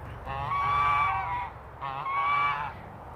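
Male geese kept as guards on a backyard farm give two loud, nasal honking calls close by, each lasting over a second, with a short pause between them.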